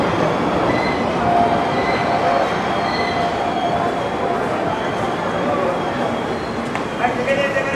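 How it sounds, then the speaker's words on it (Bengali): A train pulling out of Bardhaman Junction on the Lucknow–Howrah Super First Express, heard from inside with a constant loud rumble, a few faint wheel squeals and light clicks. Quiet voices can be heard underneath. "ছেড়ে দিলে কিন্তু আমাদের ট্রেন বর্ধমান জংশন থেকে।"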